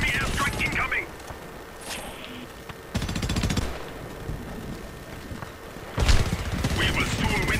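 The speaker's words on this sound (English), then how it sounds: "Enemy airstrike incoming." Enemy airstrike in a war video game: bursts of loud explosions and rapid gunfire come in waves, with quieter battlefield rumble and scattered shots between them.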